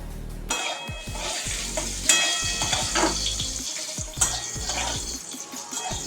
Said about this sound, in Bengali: এই যে আমি কুমড়ো ভাজা করছি।